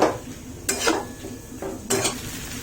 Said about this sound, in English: I'll fry the veggies lightly for maybe 2 to 3 minutes.